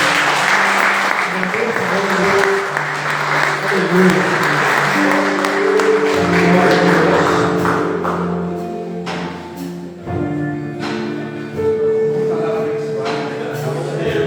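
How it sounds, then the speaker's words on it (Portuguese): A church congregation claps in praise, producing a dense, loud wash of applause. Sustained musical tones and a voice run under it, and the clapping thins out and fades partway through. "Dê um louvor de palmas ao Senhor."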